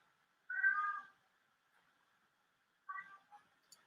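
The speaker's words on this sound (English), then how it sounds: "it's a cat that's not very happy" An unhappy cat lets out two drawn-out meows a couple of seconds apart, the first longer and stronger, followed by a few faint shorter sounds, heard alone in quiet surroundings.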